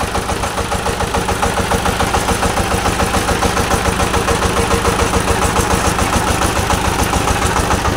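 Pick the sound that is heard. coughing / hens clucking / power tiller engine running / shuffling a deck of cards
power tiller engine running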